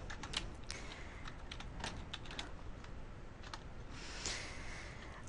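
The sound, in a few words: typing on a computer keyboard, tab and enter keys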